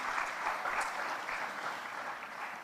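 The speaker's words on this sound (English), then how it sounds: "Another round of applause for our panelists" Audience applause for the panelists at the National ICT Innovation Awards ceremony in Lilongwe, a steady, fairly soft wash of clapping from a crowd that holds evenly throughout without fading.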